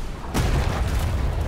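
Ship cannon fires in the pirate sailing game Atlas aboard a brig, a single deep boom that rolls on as a sustained low rumble through the rest of the moment.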